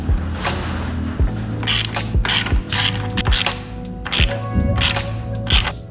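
Ratchet wrench loosening 10 mm engine mount bolts on top of a car engine, repeated loud clicking ratchet strokes in bursts with metallic creaks, close and rhythmic.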